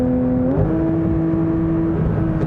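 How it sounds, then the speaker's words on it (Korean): A Porsche 911 GT3 with a PDK gearbox revs up close by, its engine note climbing quickly and then holding at a steady high pitch for about two seconds, loud and unaccompanied by talk. "이 PDK를 썼을 때 이 회전수 올라가는 소리 한번 들어보세요"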